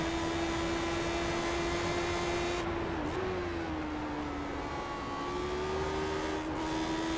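Engine of a Lotus 79 race car in iRacing, a continuous buzzing drone that holds steady, dips briefly with a lift off the throttle, then climbs again, fairly loud and heard alone.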